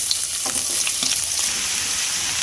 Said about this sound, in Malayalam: ഇനി ആദ്യം അതിലോട്ട് നമ്മൾ സവാള ഇട്ട് കൊടുക്കുന്നുണ്ട്.